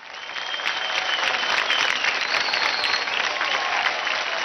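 A studio audience at the Dance India Dance Season 4 televised dance show claps in steady, dense applause throughout, with no break.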